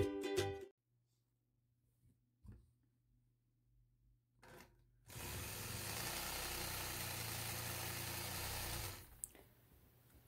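A quilting sewing machine stitches a curved line across a floret quilt block with a ruler, running steadily for about four seconds after quiet handling sounds, then stopping.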